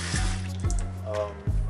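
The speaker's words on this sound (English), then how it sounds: "I just fill it up with water a little bit" Water runs into a snake's plastic tub as it's filled for cleaning, a soft, steady splashing with a few small knocks and bumps, close by and fairly quiet.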